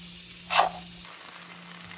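Food lands in melted butter in a pan while making stuffed salmon, giving a short burst of sizzling frying that settles back into a low, steady background hum.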